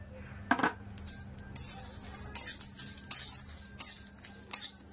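Coriander seeds and then cumin seeds toasting in a pan for tamarind pickle, giving a faint steady sizzle under scattered stirring clinks and scraping taps of a spoon against the pan.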